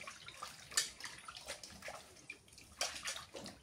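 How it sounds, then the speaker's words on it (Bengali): Freshly cut fish being washed by hand in water, producing faint, close splashing and sloshing in uneven bursts. "মাছগুলা কাটলাম, এবার ধুয়ে নিই।"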